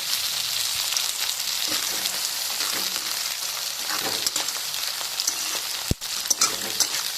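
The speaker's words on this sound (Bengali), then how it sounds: "পেঁয়াজটা আমি লাল লাল করে ভেজে নেব" Onions fry in hot oil with a steady, dense sizzle throughout, broken near the end by a brief clank of utensils.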